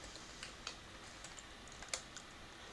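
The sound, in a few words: typing a password on a computer keyboard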